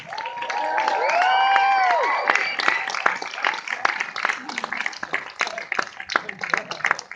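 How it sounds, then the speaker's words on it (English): An audience applauds as an actor comes out at a film introduction, with a burst of clapping and cheering that tapers into scattered claps, while voices talk over it. "You don't all have to clap."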